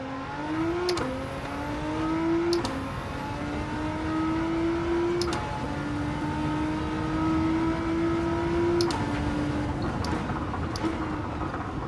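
A 1000-horsepower Nissan R35 race car in Gran Turismo 7 screams close and loud, its engine note climbing steadily through the gears with several quick upshifts, each briefly dropping the pitch before it rises again.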